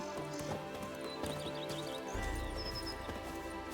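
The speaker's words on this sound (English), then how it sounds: "Even a horse drops if you ride it at a constant gallop." Horse galloping in The Witcher 3: a steady run of hoofbeats over low rumbling ambience, moderately loud and continuous, with other game sounds layered in and no talking.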